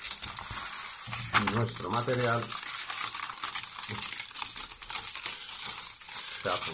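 Sheets of paper are peeled apart after hard-wax stamping with an unplugged iron, giving steady crinkling and crackling close by, mixed with a person talking.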